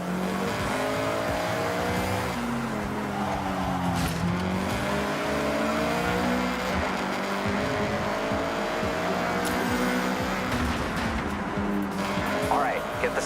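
Honda CRX revving and accelerating in the Forza Horizon racing game, a steady loud engine drone with rising harmonic sweeps and gear shifts across the whole stretch, with someone talking over it.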